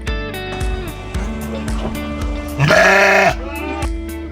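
Several goats bleat in overlapping, wavering cries, one call rising loud and strained near the end, close by with no talking.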